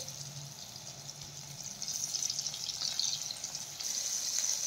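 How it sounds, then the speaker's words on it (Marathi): Soya chunks frying in hot oil over medium heat, a steady bubbling sizzle that grows slightly louder and denser after the first couple of seconds, close and continuous with no talk. "4 ते 5 मिनिटे आपल्याला मीडियम हीट वरती सोया चंक्स तळून घ्यायचे आहेत"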